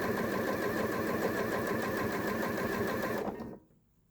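Sewing machine running steadily while stitching fabric strips into straps for a scrappy tote bag, a loud continuous whirring hum with rapid needle rhythm that stops abruptly near the end.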